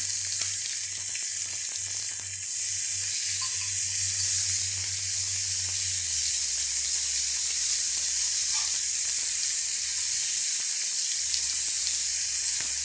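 Kerrygold pure Irish butter and spaghetti squash sizzling on a hot Blackstone griddle, a loud, steady, close frying hiss that fills the whole stretch over a low droning hum.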